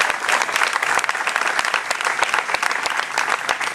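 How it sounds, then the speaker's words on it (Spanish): Audience applause at a commemoration ceremony marking the death of Dr. Raúl Alfonsín, a loud, dense, sustained burst of many hands clapping throughout. "Un aplauso para Sonia y para Horacio."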